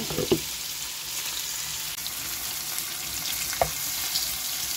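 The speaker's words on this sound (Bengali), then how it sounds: "একটু লাল লাল করে ভেজে নিচ্ছি" Pieces of fish, rubbed with turmeric and salt, frying in hot oil until reddish, making a steady near sizzle with a couple of sharp utensil clicks and no speech.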